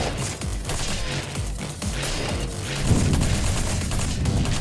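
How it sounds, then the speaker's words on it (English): A large explosion of Protosin, an enemy in the arena shooter PROTOCORE, roars as a dense, sustained blast of booming, crackling noise, with a louder surge near the end, loud and close, with no talk. "And there's Protosin exploding."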